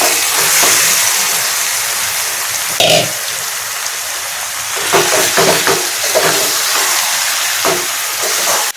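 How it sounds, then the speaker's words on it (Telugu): Marinated chicken sizzling loudly in a hot pan as a steady, dense hiss with a few scraping stirs and clinks, close and continuous without talk. "మ్యాగ్నేట్ చేసిన చికెన్ వేసేసుకున్నాం"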